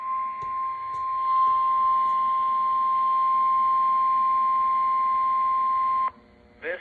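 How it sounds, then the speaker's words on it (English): A NOAA Weather Radio warning alarm test sounds as one loud, steady, unbroken tone lasting about six seconds, then cuts off abruptly into brief static. "This is a test of the National Weather Service NOAA Weather Radio Warning Alarm System."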